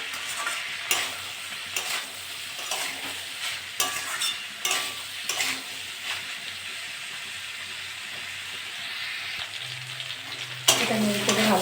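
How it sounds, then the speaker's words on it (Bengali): Yardlong beans and potatoes stir-frying in a pan with turmeric and salt, a continuous close sizzle with regular scraping strokes of a spatula, ending in a brief louder clatter. "এটা নেড়ে চেড়ে ভালো করে ভেজে নিয়েছি।"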